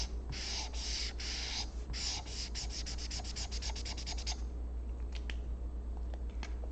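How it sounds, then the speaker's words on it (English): Markers scratching and tapping on paper during drawing, a fast series of close, crisp rubbing strokes that speed up and then give way to a few scattered taps. "Some people hate the sound of markers hitting the paper."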